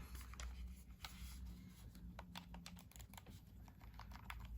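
Buttons on a yellow Nintendo Switch Lite are pressed in quick, light clicking taps, close but very quiet over a low background hum, with no talking.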